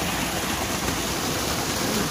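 Water from a mountain spring flows in a loud, continuous, even rushing hiss, close by and unbroken throughout.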